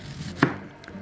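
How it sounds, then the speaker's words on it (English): A knife thinly slices a red onion on a cutting board, one sharp close chop against a quiet background. "I'm going to need a red onion, which I'm going to thinly slice"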